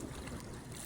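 Strong wind roaring across an open waterside area during flooding, a steady, loud broadband rush buffeting the microphone with no break.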